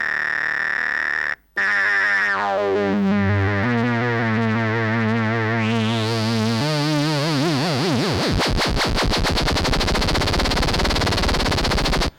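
A buzzy Korg MS-20 mini analog synthesizer tone warbles and pulses, its modulation speeding up until it becomes a rapid, harsh, machine-gun-like flutter, loud and continuous.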